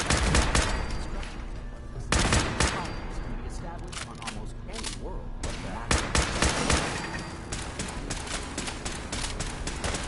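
Gunfire in the Fallout 4 video game, a series of sharp loud shots in bursts and single blasts amid ambient game noise, with a voice talking intermittently.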